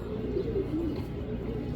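Rare Sina pigeons coo close by, a low rolling warble repeating through the short stretch over a dense, steady background hum.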